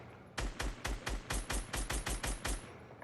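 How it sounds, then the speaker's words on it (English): An assault rifle fires in Fortnite in first person, a quick burst of about a dozen sharp, evenly spaced shots, loud and close, with nothing else heard. "this is what it feels like to shoot the assault rifle"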